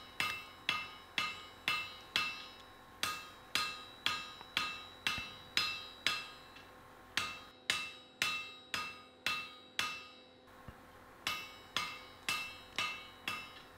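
Iron is hand forged on an anvil into a Sutton-Hoo style axe-hammer handle, with a steady run of sharp, ringing hammer blows about twice a second, each one decaying quickly and a few brief pauses in between.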